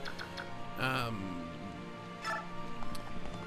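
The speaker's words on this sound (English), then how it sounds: "the rain effect really doesn't do a whole lot" Rain from the video game Fire Emblem: Path of Radiance patters softly and steadily beneath game music, with a few brighter swells.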